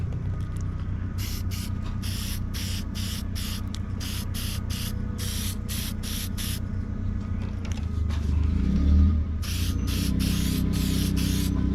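Clear coat is sprayed in light coats onto an EG Civic drift car, with steady bursts of hissing spray in a rapid on-off rhythm over a constant background hum, close and fairly loud.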